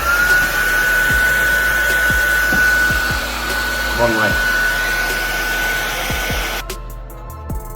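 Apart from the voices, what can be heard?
blow dryer heating Tesla Model 3 tail light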